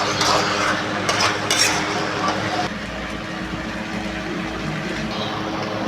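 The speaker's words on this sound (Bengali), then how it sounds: "এবার বেশ কুড়ি মিনিট ধরে খুব ভালো করে মটনটাকে একটু কষিয়ে নিতে হবে" Mutton sizzles in a pan as it is stir-fried and slowly browned in spices while a spoon scrapes and stirs it. The sizzling and scraping are steady and close, loudest in the first few seconds.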